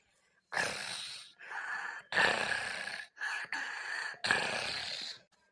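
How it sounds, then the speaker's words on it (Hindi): A cartoon mother-in-law's snoring, voiced by an actor: four or five loud, breathy, groaning snores in a steady rhythm, each rasping breath separated by brief pauses. "ये खर्राटे की वजह से मुझे नींद भी नहीं आ रही है"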